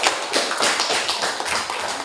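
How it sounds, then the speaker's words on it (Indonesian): A classroom of students applauding during a lesson, a dense burst of many hands clapping close by, continuous and fairly loud throughout with a few sharper claps standing out. "tepuk tangan dulu buat kita"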